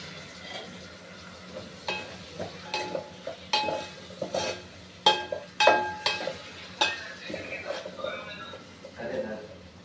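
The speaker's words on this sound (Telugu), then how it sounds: "ఇప్పుడు ఒక కప్పు పెరుగు వేసుకుందాము" Yogurt goes into frying masala for aloo dum biryani and is stirred in, giving intermittent scraping clinks of a spoon against the pot over a low sizzle, close by and moderately loud, with a voice talking.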